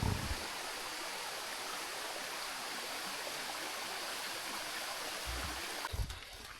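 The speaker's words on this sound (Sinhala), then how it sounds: "අපි දැන් ඉන්නේ අපිට හාවගල නගිද්දි හම්බුණ අන්තිම වතුර පාර ගාව." Mountain stream on the Hawagala trail in Sri Lanka rushing steadily and close, a dense continuous wash of water with a few louder splashes near the end, no voices.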